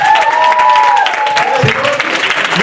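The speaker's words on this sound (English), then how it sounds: "Can you give another round of applause?" An audience at a Brooklyn event breaks into a short round of applause, dense clapping heard close with a voice speaking over it.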